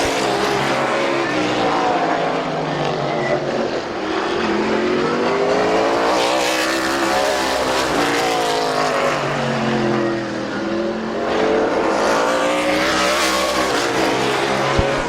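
Race cars lapping at Midvale Speedway, engines droning and rising as they pass one after another, loud and continuous with sweeping pitch changes.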